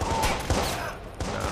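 Gunfire in Watch Dogs, a quick volley of shots followed by a couple of sharp separate bangs, loud and close with no voice over it.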